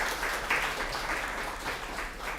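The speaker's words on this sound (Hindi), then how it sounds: "तो जरा जोरदार तालियां हो जाए मेहमानों के लिए भी" Studio audience applause for guests on a Hindi television debate show, a steady wash of clapping at moderate level with no voices over it.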